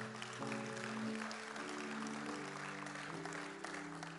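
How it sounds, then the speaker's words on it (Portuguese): A church congregation applauds during a sermon. Steady clapping runs throughout over a sustained organ or keyboard chord, with the sound of a crowd behind it. "Então dá um glória a Deus aí e aplaude ao Senhor"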